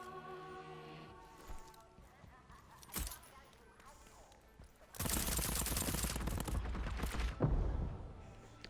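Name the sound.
gunshots in the video game Deathloop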